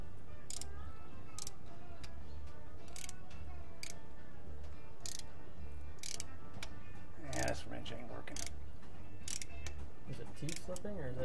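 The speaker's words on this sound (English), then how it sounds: "It's a socket slipping." A socket wrench slipping while tapping a Heli-Coil thread insert, heard as sharp metallic clicks at irregular intervals over a steady low background hum, with one louder rattling slip partway through.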